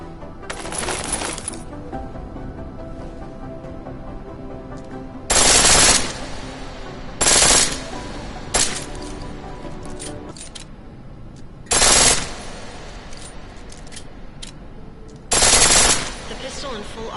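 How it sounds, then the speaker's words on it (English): A pistol fires on full auto in Deus Ex: Mankind Divided, with several sharp, rapid bursts of gunfire spaced a few seconds apart over a low background hum. "The pistol in full auto will take down targets fast, but it'll burn through your ammo."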